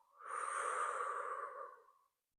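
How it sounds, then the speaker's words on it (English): During a guided meditation and healing session, someone takes a single slow, deep breath, soft and close, rising and fading over about two seconds before silence. "Take a deep breath in, hooking any mental constructs, and with the out breath, let them go."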